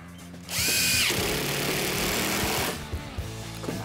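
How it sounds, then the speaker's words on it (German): A power drill pre-drills a screw hole in wood for a DIY wooden planter box, whining up loudly for about two seconds before spinning down, followed by faint handling clicks. "deswegen muss ich einfach vorbohren"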